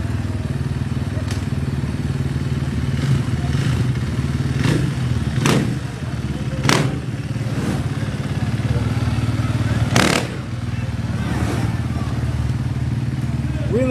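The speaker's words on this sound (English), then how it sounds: "Wheeling it there just a little bit with the motorcycle and the ATV." A motorcycle and an ATV pop a wheelie in a 2024 North Carolina Strawberry Festival parade, their engines a steady low rumble with several sharp knocks and clatters over the crowd's background noise.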